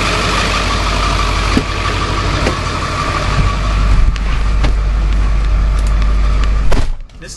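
A car engine idles steadily outdoors, heard up close from about two feet away, a constant low rumble with a few faint knocks and clicks throughout before cutting off sharply near the end.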